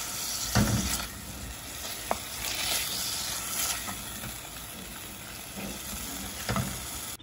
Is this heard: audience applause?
no